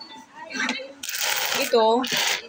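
Coins from a piggy bank spill and clatter in a few bright metallic bursts, close by, with someone speaking before and between the jingling.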